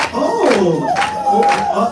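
An audience at a USCHA 2023 empowerment event cheers and screams with crowd noise, loud and sustained, with a high shrill yell cutting through.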